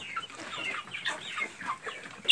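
Young criollo chickens clucking and peeping nearby, a quick run of short chirpy calls with brief pauses, fairly quiet and without speech.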